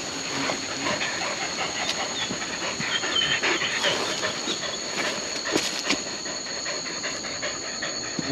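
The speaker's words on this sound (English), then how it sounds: "The dog still going in." A hunting dog digs into an armadillo hole in a Trinidad forest, panting and scratching in quick irregular bursts against steady hissing insect drone, fairly close and continuous throughout.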